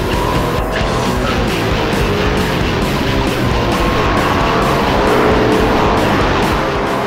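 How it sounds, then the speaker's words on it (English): A BMW M5 and a Mercedes E55 run a quarter-mile drag race, their engines roaring loud and continuous with a sustained high-speed rush and wind noise throughout. "It's time for a straight up quarter-mile drag race."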